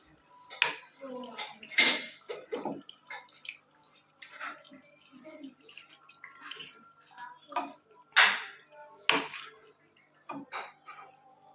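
Chicken karahi is dished out of a pan, with a metal spoon clinking and scraping against cookware in scattered, irregular taps, close and fairly crisp.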